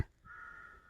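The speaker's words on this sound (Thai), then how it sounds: "เสียงอีกาอยู่ต้นกุ้งต้นนั่นพี่น้อง" A single crow caws in a long, drawn-out harsh call, moderately distant, after a brief thump at the start.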